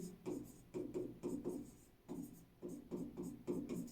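A pen scratching out words by hand while a class 10 maths area problem is worked through, in repeated short rubbing strokes with brief pauses, fairly close and alone.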